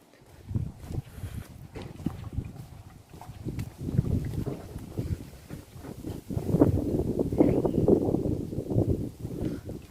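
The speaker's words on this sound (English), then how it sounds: "it's a bit windy today, so I hope the wind doesn't disturb the video too much." Gusty wind buffeting a microphone outdoors, low rumbling bursts that rise and fall irregularly, growing stronger toward the end.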